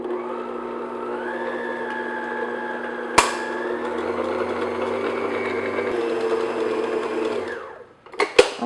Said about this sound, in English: I'm just going to mix this in, start at low speed because you don't want the flour to come up, and then put up to medium speed.